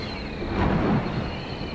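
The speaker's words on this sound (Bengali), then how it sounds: "হঠাৎ একটু আধটু বিজলি চমকাচ্ছে আর গুরুম গুরুম শব্দে মেঘ ডাকছে।" Deep thunder rumbling through a dark moonless night, a low broad roll that swells in the middle and eases off again, steady and unbroken, with no voices over it.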